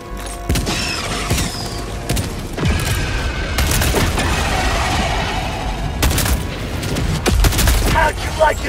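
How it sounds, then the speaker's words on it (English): A grenade is thrown and explodes in the video game Helldivers 2, heavy booms and bursts of gunfire over several seconds, loud and dense, with a game voice calling out. "Throwing grenade!"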